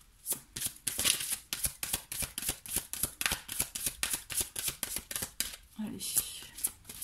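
Tarot cards are shuffled in quick, steady rhythmic riffles, crisp papery bursts repeating close to the listener for several seconds, with a brief spoken word partway through.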